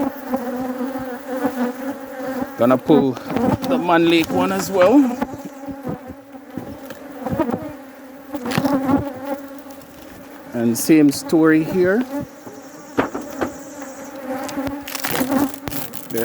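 A steady swarm of honey bees hums throughout, with close buzzing passes rising and falling while someone talks intermittently over it.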